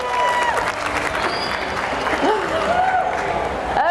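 An audience at a restaurant industry talk claps steadily for the speaker's introduction, with voices and a faint whistle-like tone over the clapping.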